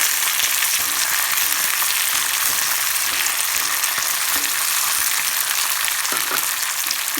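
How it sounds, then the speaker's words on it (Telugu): Tamarind paste fries in a small tadka kadai with green chilli and curry leaves, giving a steady, close, dense sizzle and occasional stirring taps. "After they are fried well, then you shall fry the tamarind paste."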